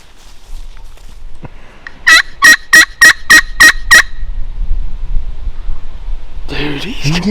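Two wild turkeys gobbling during a Kansas spring hunt: a rapid, loud run of about six gobbling bursts mid-clip over steady outdoor wind and rustle, with a low murmur of voices nearby.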